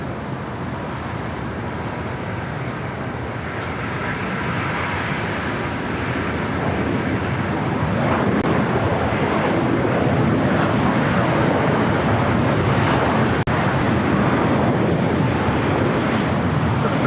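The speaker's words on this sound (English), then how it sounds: "ITA now rolling down." An ITA airliner rolls down the runway for takeoff at LAX, a broad, steady jet roar that builds over the first several seconds and then holds loud and constant, mixed with wind buffeting on the microphone.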